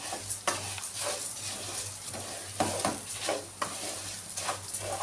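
Vermicelli toasting in a pan with hard vegetables, a soft continuous sizzle broken by repeated scraping strokes of a spoon stirring, close and steady with no talk.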